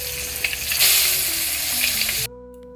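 An egg frying in a pan gives a steady, close hiss and sizzle, ending abruptly as the heat or sound cuts off.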